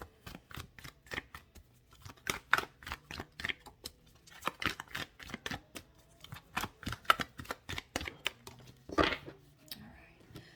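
Tarot cards are shuffled and handled by hand, a quick series of sharp, papery flicks and slaps in uneven bursts, close and fairly quiet, with brief pauses between runs.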